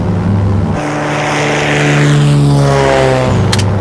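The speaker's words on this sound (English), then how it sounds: "It's a light plane, Ray." A light propeller plane drones steadily in flight, its engine a loud continuous hum with a rising and falling pitch filling the whole stretch, heard as if from inside or very near the aircraft.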